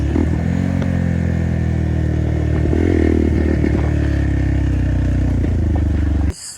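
Hero Xpulse 200 4V motorcycle being ridden: a loud, steady engine drone at close range with a slight rise in pitch midway, which cuts off abruptly near the end.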